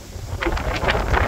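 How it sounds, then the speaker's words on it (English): Loud gusts buffet the microphone in a continuous low roar, with breathy surges of wind rising and falling over the short span. "The wind's really picked up."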